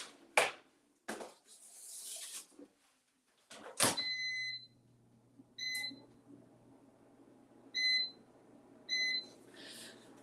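An air fryer's control panel being set, giving several short, clear electronic beeps spaced a second or two apart, following a few handling knocks and clatters nearby, with no talk.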